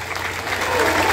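A short burst of dense clapping from a group honoring a commander at a Guarda Civil Metropolitana gathering in São Paulo, steady and building slightly louder toward the end.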